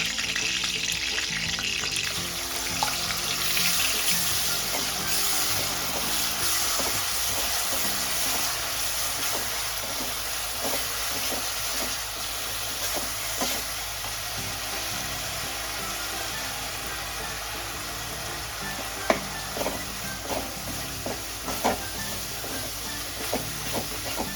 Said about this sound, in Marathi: आता आपल्याला हे थोडंसं भाजून घ्यायचं असं कोरडं होईपर्यंत